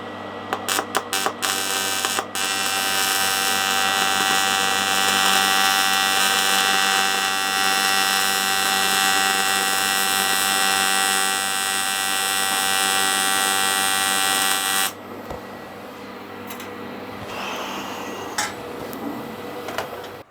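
An R-Tech AC/DC TIG 261TFT welder TIG-welds a porous aluminium alloy cylinder head, giving a loud, steady electrical buzz with a few sputtering starts, then an abrupt stop and quieter workshop sounds.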